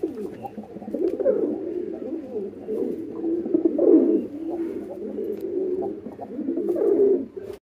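Sirazi pigeons in a loft give a continuous, close, full-throated cooing chorus of overlapping rolling calls that holds steady throughout.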